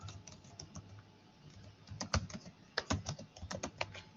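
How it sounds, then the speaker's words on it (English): Bursts of computer keyboard typing as view labels are entered in SolidWorks, quiet and close, the keystrokes speeding into a quick clattering run near the end. "I will type side view here"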